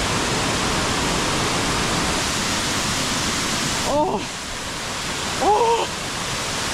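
A Bali waterfall thunders in a loud, constant broadband roar close by, briefly interrupted by two short exclamations from a voice.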